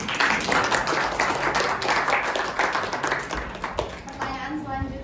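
Audience clapping at a high school panel discussion: many hands in quick uneven rhythm, fairly loud and close, tapering off toward the end.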